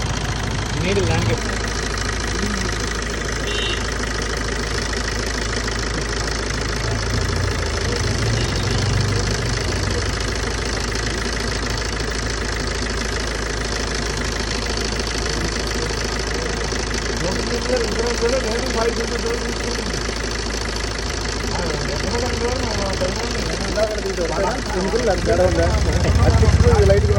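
A Maruti Ritz with about 250k driven sits idling after a carbon cleaner treatment, its engine giving a steady low rumble with a faint knocking undertone, with people talking over it intermittently.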